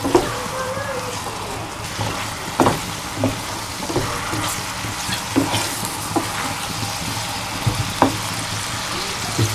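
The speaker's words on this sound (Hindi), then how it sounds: "अब इसको इसमें फ्राई करते हैं चिकन" Chicken pieces, boned and boneless, fry in a pan with a loud, dense sizzle and bubbling, punctuated by regular scraping and clinks of a spoon stirring throughout.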